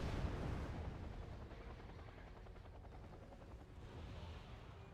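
Autocannon fire in the Wargame Red Dragon strategy game, a dense rattling barrage of rapid shots mixed with rumbling battlefield noise and engine drone, steady and moderately loud throughout.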